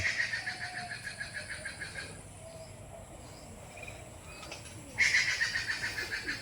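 Pigeons in flight on an early-winter day among tall trees give a rapid run of rhythmic fluttering pulses that drops away in the middle and surges back strongly toward the end.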